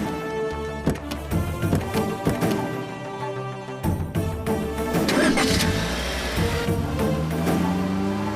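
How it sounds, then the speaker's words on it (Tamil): A car engine cranks and fires up loudly nearby, sputtering into a rough rev before settling into a steady running idle, with no voices over it. "அருண், வண்டி எடு."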